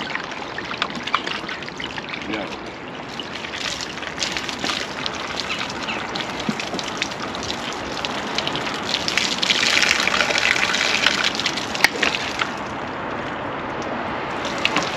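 Water gushing and pouring steadily in a kitchen while spicy jerk wings are prepared, a continuous close splashing stream that swells slightly toward the end, with no talk over it.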